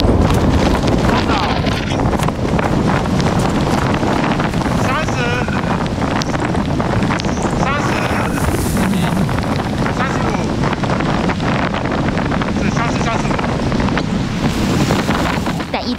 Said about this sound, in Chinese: 风雪太大了